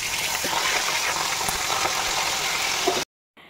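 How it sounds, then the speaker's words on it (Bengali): A large batch of fish fries in a pan, a close, steady sizzling hiss with small pops that runs evenly before cutting off abruptly near the end. "আবার সেকেন্ড বার দিয়ে দিচ্ছি, কারণ অনেকটাই পরিমাণে মাছ আছে"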